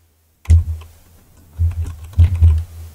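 Keystrokes on a computer keyboard while a word is typed into code, with a few soft close clicks in two short bursts and no talking.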